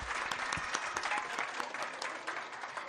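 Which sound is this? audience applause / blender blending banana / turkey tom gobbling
audience applause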